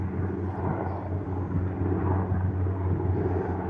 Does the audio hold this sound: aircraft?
yes